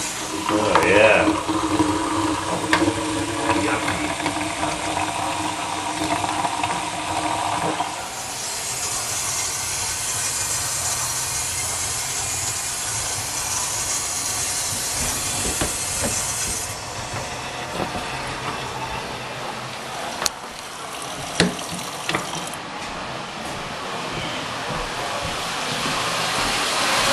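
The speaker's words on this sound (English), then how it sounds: "Let's crank that water on." Water turned on at a toilet rushes through the pipes with a loud broadband hiss that swells, shifts and then settles into a quieter flow with scattered clicks.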